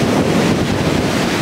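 Strong wind buffets a camera microphone outdoors, a continuous loud rumbling roar with no breaks and no voices.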